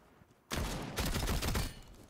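A loud burst of rapid gunfire rips out in Rainbow Six Siege and holds for just over a second before cutting off sharply.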